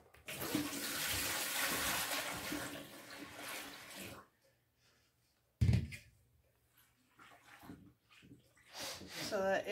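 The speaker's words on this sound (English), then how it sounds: "And then you're going to pour your room temp water in." Room temperature water poured into a 5 gallon laundry bucket holding detergent and hot water, a close, continuous splashing stream for about four seconds, then a brief gush and scattered quieter sloshing with a voice briefly heard.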